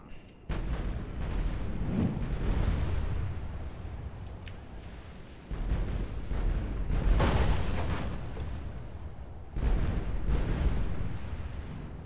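Artillery strikes in a Total War: Warhammer battle against Chaos-corrupted men: deep booming blasts in three heavy waves with rumbling tails, loud and dense, with no talk over them.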